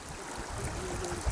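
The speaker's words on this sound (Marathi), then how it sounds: "किती दिवस झालं पाणी वाहतंय?" Water streams steadily across a flooded village road, a continuous broadband rush heard nearby for a brief moment with no voices.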